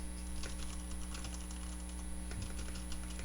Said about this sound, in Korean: 아마 키보드가 기계식 키보드여가지고 좀 소리가 녹음될 것 같은데